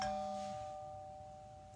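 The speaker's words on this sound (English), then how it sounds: "Doorbell?" A doorbell ringtone plays a bright electronic chime with two clear tones, then rings out and fades slowly. It is faint and heard alone.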